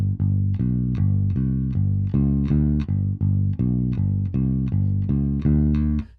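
A bass guitar plays a punchy, repeating rock and roll riff with bouncing low notes and steady rhythm, loud and close with no talking.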